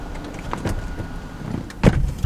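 A Lamborghini-style vertical scissor car door swings shut with a soft motorized whir, then a sharp, close thump as it latches near the end.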